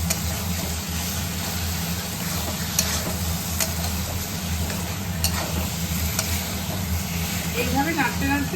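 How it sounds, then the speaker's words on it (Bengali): Taro leaves (kochu saag), boiled with lemon, being stirred in a pan as they cook down, with a steady soft sizzle and scraping throughout, spoon knocks now and then, and a voice talking over it. "এইভাবে নাড়তে নাড়তে জলটা শুকিয়ে যাবে"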